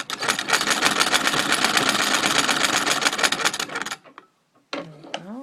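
A Singer treadle sewing machine stitching through fabric in a fast, steady mechanical rattle for about four seconds, stopping briefly before a short restart, close and loud with no talk.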